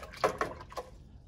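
Glaze-coated pottery tongs dipped and swished in a bucket of water, three quick, faint splashes close by, with no talking.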